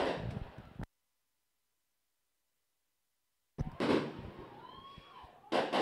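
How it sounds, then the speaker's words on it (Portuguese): Fireworks set off by the Ceilândia team at a stadium before a women's football match, loud crackling bursts at the start and again near the end with a silent gap between. "Os fogos de artifício da equipe do Ceilândia"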